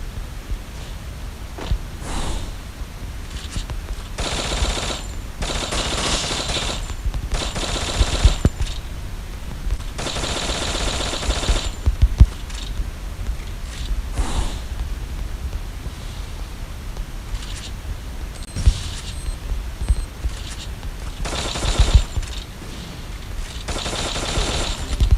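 Rapid bursts of automatic gunfire in a video game, several separate volleys of crackling shots spread across the stretch with short quieter gaps between, fairly loud and without talk.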